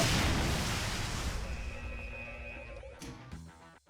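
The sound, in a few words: grenade explosion in a Doom (1993) mod, a video game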